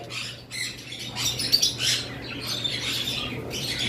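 Pineapple yellow-sided conure parrots, kept as breeding pairs, give a steady stream of shrill squawks and chirps that rise and fall over a low background hum.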